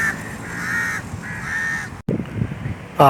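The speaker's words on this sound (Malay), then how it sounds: "Ni gagak lagi." A crow in a park gives repeated loud caws, three or so spaced calls near the listener, followed by brief handling noise and a clatter.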